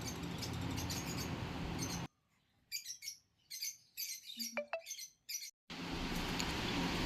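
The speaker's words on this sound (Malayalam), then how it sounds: "അടുത്തത് നമുക്ക് വരുന്നത് ജാവയുടെ അഡൽറ്റ് നാല് കിളികളുടെ ഒരു ബാച്ചാണ്" Cage birds for sale, including cockatiels and java sparrows, chirp in quick bright bursts, close and clear, with a short high whistled call and stretches of busy background noise around them.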